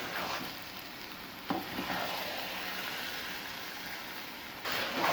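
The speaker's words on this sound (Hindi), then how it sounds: "बराबर चम्मच हिलाते रहेंगे ताकि जले नहीं नीचे से" Carrot halwa being stirred with a spoon in a pan over a medium flame: a steady, close sizzle and scraping with a couple of sharper clanks, no voices.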